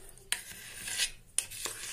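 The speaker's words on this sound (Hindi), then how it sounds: "मैं इसमें एक कटोरी पानी डालने वाला हूं और इसको अच्छे से मिला दूंगा" A metal spoon scrapes and clinks against a bowl while stirring besan batter with water for kadhi, two sharp knocks about a second apart amid soft swishing and scraping.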